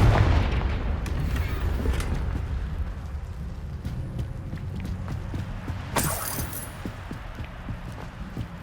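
A Confringo explosion spell bursts loudly up close in the video game Hogwarts Legacy, a deep boom that rumbles on and fades over several seconds, with a second sharp crackling burst partway through.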